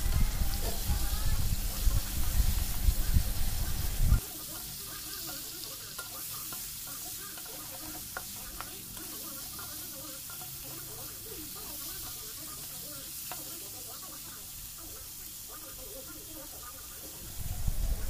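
Pork sizzles and hisses in hot oil, loud and dense at the start, dropping to a softer steady fry through the middle, then flaring up loudly again at the end.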